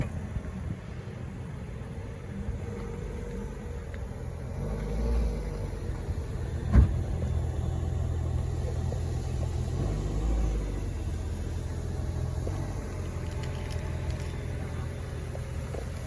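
A 2022 Ford Maverick hybrid starts cold and settles into a low, steady engine rumble, with one sharp click partway through and a quiet, even idle that continues to the end.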